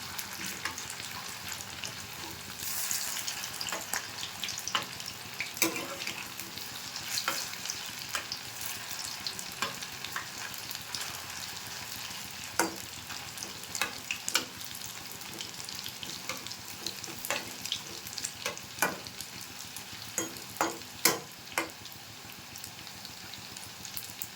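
Pieces of maida dough fry in hot oil with a continuous crackling sizzle. Scattered sharp pops and bubbling run throughout, steady and moderately quiet, with no talking.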